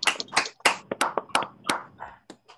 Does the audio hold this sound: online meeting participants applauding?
yes